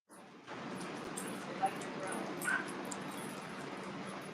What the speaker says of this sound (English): The dog with the big stick.